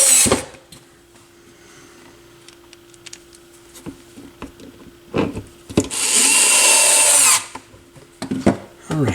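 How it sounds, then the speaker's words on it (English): Low-torque power screwdriver driving screws into a Denon DP-30L turntable under repair, with short bursts and one longer loud whir near the end between quiet pauses and small handling clicks, close up. "I have the torque set really, really low on the screwdriver."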